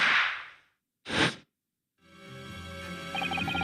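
A firework bang from the video game The Great Ace Attorney 2, one sharp whip-like crack that sounds like a gunshot, preceded by a hissing burst and followed by game music.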